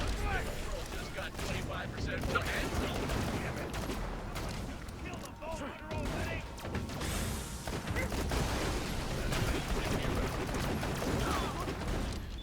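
Jakobs pistol shots in Borderlands The Pre-Sequel, a string of sharp, closely spaced reports amid clanking mechanical game noise and battle clutter, with a voice commentating over the action.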